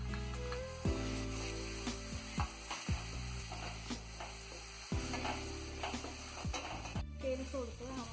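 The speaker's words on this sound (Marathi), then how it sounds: "टमाटरची प्युरी ॲड करा।" Tomato puree sizzles in hot oil while being stirred into Kolhapuri chicken masala, with repeated scraping clicks of the spoon against the pan over a steady frying hiss, close and moderately loud.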